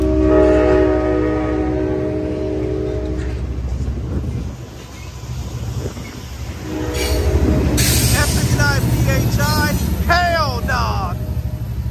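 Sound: Amtrak San Joaquin train departing station

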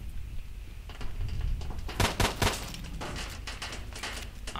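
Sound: M1911 pistol gunshots in S.T.A.L.K.E.R. video game

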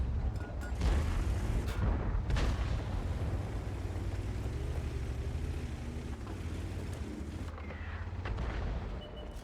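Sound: artillery fire in a tank video game

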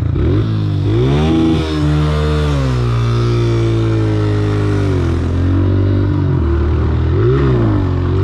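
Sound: dirt bike engine revving during wheelies

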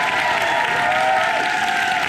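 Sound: audience applauding after a dance contest performance

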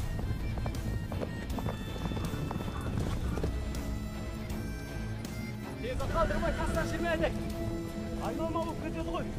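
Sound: horses galloping, hooves clip-clopping

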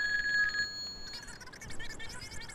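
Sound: telephones ringing in video game Grand Theft Auto 2

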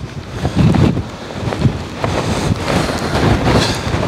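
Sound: strong 40 mph storm wind buffeting tents

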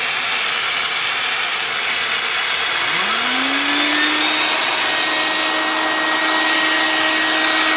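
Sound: vacuum switched on during sand casting

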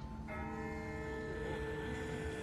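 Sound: distant bell ringing in The Walking Dead video game

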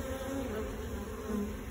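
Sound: bees buzzing in a rotted hive

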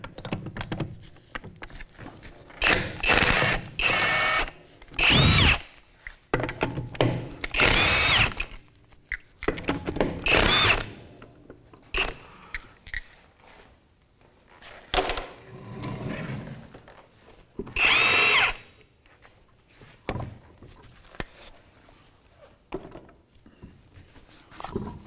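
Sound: power tool with 17 mm socket removing a car's rear wheel

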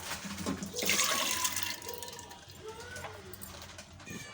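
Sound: adding soaked chana dal and toor dal with water into cooker

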